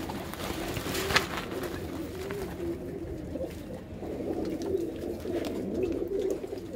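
Large shah-eyed breed pigeons cooing, soft repeated low coos rolling on and off over a close, steady background with a brief rustle; no one speaks.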